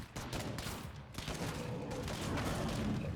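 Dense, continuous gunfire from a State of Decay 2 fight against a juggernaut zombie, a steady loud fusillade of overlapping shots with no pause across the whole stretch.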